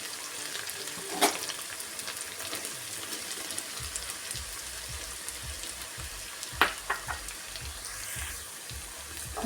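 Crushed ginger and garlic sizzle as they fry with shallots in hot oil, a steady crackling hiss with a few sharp pops and stirring scrapes.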